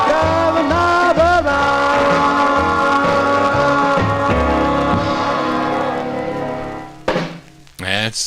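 A 1950s doo-wop vinyl record plays loudly with harmonized vocals and band, then fades near the end before a brief burst of other sound.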